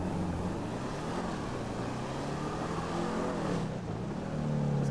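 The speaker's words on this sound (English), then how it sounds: "This car sounds so good with the custom exhaust when you like, when you shift it." A car with a custom exhaust in GTA 5 Online drones steadily as it accelerates, its engine pitch rising and then dropping at gear shifts. The sound is continuous and moderately loud, with no talking.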